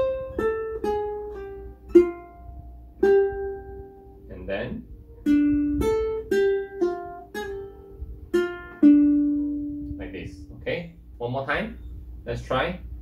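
A ukulele plays two combined lick phrases as a run of plucked single notes with pull-offs and slides, close and clear, followed by a person speaking briefly near the end.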